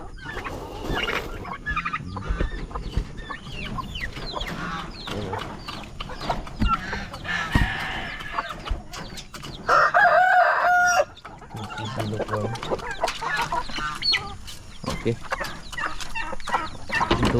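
Chickens cluck busily throughout on a farm, with a rooster crowing loudly partway through over a dense farmyard background, turkeys present, and occasional faint talk.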